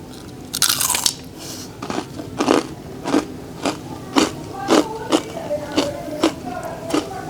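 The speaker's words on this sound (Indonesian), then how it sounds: "kalau kalian pengen denger seberapa kriuknya ini, mungkin kalian bisa denger ya" Crunchy fried rempelo, a snack of tofu and wonton skin, is bitten and chewed up close, giving a loud crackling first bite followed by a steady series of regular crisp crunches.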